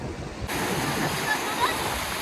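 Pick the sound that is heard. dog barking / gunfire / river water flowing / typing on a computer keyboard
river water flowing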